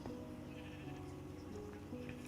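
Sheep in a Minecraft sheep farm bleat repeatedly in short, fairly quiet calls over a steady low background, with no talking.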